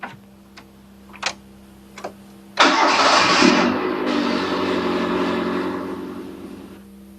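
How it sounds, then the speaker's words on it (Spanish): A car engine starting: a few faint ticks, then a loud abrupt crank that catches and settles into a steady, close idle hum. "Primero arrancamos el motor"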